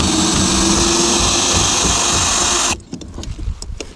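A power tool whining steadily as it backs screws out of a wooden contraption on a cabin roof outdoors. The motor runs loud and continuous, then cuts off abruptly, leaving light knocks and handling noises.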